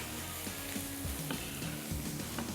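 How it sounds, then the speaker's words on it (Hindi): Samosas frying in hot oil over moderate heat, a steady continuous sizzle with scattered faint clinks and tonal hum in the background, close and even throughout. "जब तक समोसे फ्राई हो रहे"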